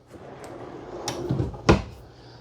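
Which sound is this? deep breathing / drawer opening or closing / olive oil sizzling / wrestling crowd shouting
drawer opening or closing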